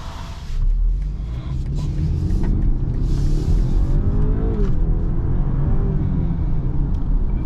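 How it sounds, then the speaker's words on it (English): A 2023 BMW X3 with xDrive pulls away hard from a standstill, its engine rumble and low drone rising steadily and staying loud and close throughout, heard from inside the cabin. "We're gonna go ahead and do an acceleration right here and test BMW xDrive system"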